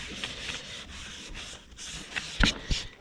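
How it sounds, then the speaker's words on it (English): Cloth wiping across a dirty car bumper before installing an Accord front splitter lip, a soft steady rubbing with a couple of brief louder swipes near the end, close by with no talking. "I'm just gonna go ahead and wipe down the surface of the bumper"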